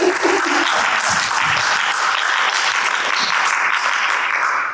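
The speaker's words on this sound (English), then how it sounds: "can you ladies give him a round of applause?" Loud, continuous applause from an audience at an education and STEM event, many hands clapping in a dense steady roar, with a few faint voices underneath near the start.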